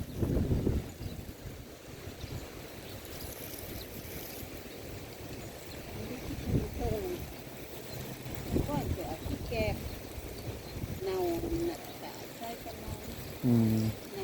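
Wind blows steadily across the microphone outdoors in rural surroundings, a constant rough rumble and hiss that carries through the whole stretch while people talk intermittently over it.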